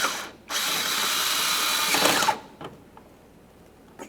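Power tool run on a mounting bolt of a 2017-2024 GMC Acadia: one steady whirring burst of about two seconds, close and fairly loud, then a few faint clicks in quiet.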